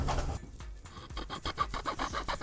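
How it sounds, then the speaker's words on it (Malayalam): A notch is sawn into a piece of wood with quick, rhythmic rasping strokes that repeat close by, with no other sounds. "അപ്പോൾ ഇനി നമുക്കിത് ഇവിടെ വെച്ചിട്ട് നമുക്ക് നമ്മുടെ നോച്ച് കട്ട് ചെയ്യാം."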